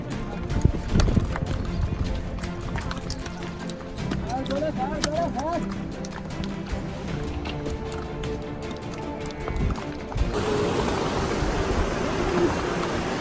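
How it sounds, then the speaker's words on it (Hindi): A horse walking a mountain pilgrimage trail on the Amarnath Yatra route, with steady hoof clip-clops, occasional whinnies and a rushing stream in the background under voices, ending in a louder broadband wash. "हम लोगों ने डिसाइड किया कि घोड़े पे बैठकर गेट पार करते हैं"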